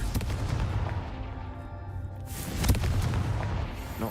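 The Confringo fire spell in the Hogwarts Legacy video game blasts as a loud, rumbling boom that swells and peaks midway, with crackling debris over a low roar and no voices.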